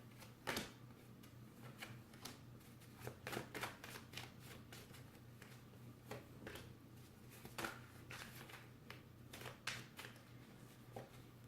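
Tarot cards are shuffled by hand in soft, irregular riffles and snaps over about eleven seconds, quiet and close with a faint steady hum behind, no talk.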